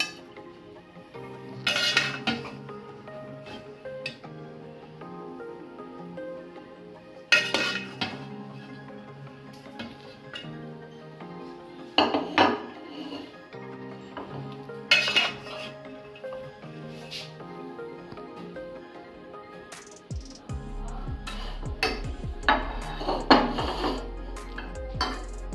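Chana pulao is served out of a pot, with a few separate metallic clinks and scrapes of a spoon against the vessel spaced several seconds apart, then a busier run of clatter near the end, fairly quiet and close.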